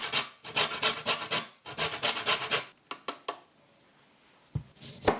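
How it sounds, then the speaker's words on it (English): Lemon zest is grated on a grater, making close, scratchy rasping strokes in two quick rhythmic bursts, then a few separate scrapes and taps with quiet gaps between them. "Grate the zest of 2 lemons."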